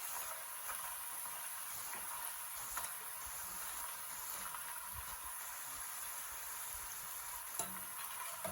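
Banana slices sizzle and crackle steadily in hot frying oil, a dense continuous hiss with scattered pops and an occasional stir, close by and with no voices.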